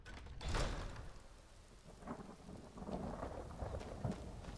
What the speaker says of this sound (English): Oh, it's thunder and lightning, I like it.